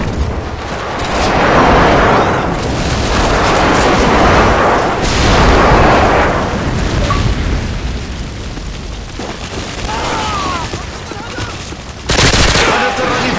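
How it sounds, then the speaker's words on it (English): Booming airstrike explosions and gunfire in the video game Modern Warfare 2, loud rolling blasts in overlapping waves with a brief drop before a final heavy burst. "Friendly airstrike inbound."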